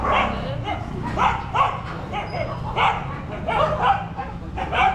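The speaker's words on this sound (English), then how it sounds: "So we got some dogs fighting down here." Street dogs near Swoyambhu temple in Nepal fight and bark, repeated sharp barks and yips in close bursts with snarling between them, loud and continuous with busy outdoor ambience.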